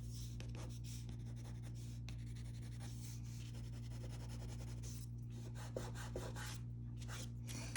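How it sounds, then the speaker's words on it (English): A sharpened white Prismacolor pencil scratches short strokes across paper to draw a twill pattern, a faint, close scratchy rasp repeating over a constant background hum. "take your white Prisma, make it very sharp, and do this"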